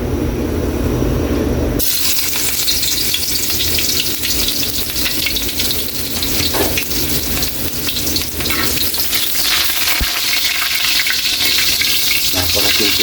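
Ginger pieces fry in hot oil in a pan for squid adobo, giving a loud, continuous crackling sizzle that swells after a brief quieter start and keeps up with fine spattering pops throughout.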